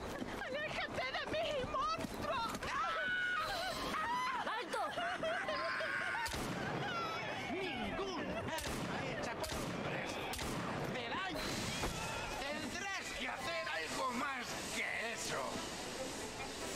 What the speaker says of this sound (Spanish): te he pegado 5 tiros